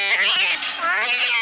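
A cat yowls in a film scene, a loud, drawn-out wavering meow that dips briefly in the middle and rises again, filling the short moment alone.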